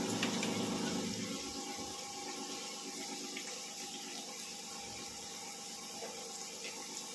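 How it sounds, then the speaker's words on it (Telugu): Soya chunks soaked in hot water being squeezed out by hand in a kitchen, a steady wet splashing and trickling stream of water, fairly close and continuous. "ఇప్పుడు ఇది వాటర్ అంతా ఇట్లా పిండేసుకోండి, పిండుకొని పక్కకు పెట్టుకోండి"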